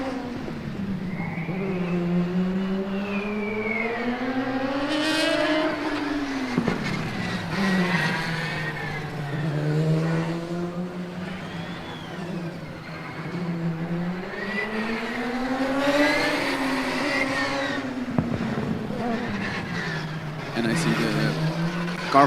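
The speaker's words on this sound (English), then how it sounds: "Car from Zurich rolling again" Formula Student Germany 2025 endurance race car from the Zurich team driving on track, its engine note climbing and falling in repeated sweeps under continuous commentary.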